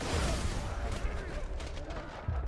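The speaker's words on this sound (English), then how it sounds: "the range on some of the explosions in this game is just a tad too big" Booming explosions in the video game Borderlands 2 rumble and crackle in a quick, heavy burst of blasts that fills the brief moment.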